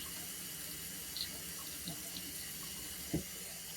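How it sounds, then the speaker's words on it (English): Water from a tap runs steadily and quietly while a rag is rinsed under it, with a few soft splashes and clunks breaking the continuous stream. "Rinse out the rag 3 or 4 times."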